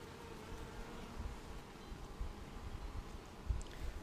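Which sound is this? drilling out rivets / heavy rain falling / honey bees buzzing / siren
honey bees buzzing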